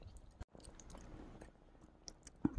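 Someone eats abalone gamtae kimbap, a seaweed-wrapped rice roll with spinach or perilla leaves, making soft close-up chewing and smacking sounds with light crunches.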